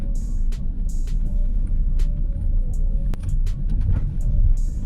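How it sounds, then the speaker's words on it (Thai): Interior rumble of a car driven slowly, around 23 km/h, a steady low road and engine drone with small clicks and bumps over it. "ผมขับรถ ด้วยความเร็วประมาณ 23 กิโลเมตรต่อชั่วโมงนะครับ"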